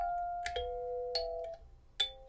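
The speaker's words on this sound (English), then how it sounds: "This is the Minel Percussion Sound Hole Kalimba 17 note Acacia." A Meinl 17-note acacia kalimba with a sound hole plays a few plucked tines, bright chiming notes that ring and decay. It is quiet and close, with no voices.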